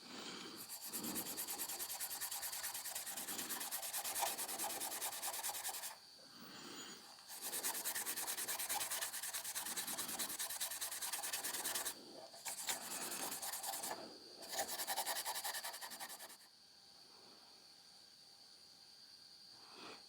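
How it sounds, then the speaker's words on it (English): Burnishing an apple wood screwdriver handle, a steady rubbing, sanding-like friction heard up close in several long strokes separated by short pauses, ending in quiet. "Before I do that, I'm going to burnish the wood here,"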